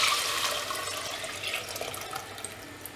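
Tamarind water mixed with chilli and turmeric powder is poured into a clay pot of anchovy fish curry, a close, steady liquid pour that gradually tapers off over a few seconds.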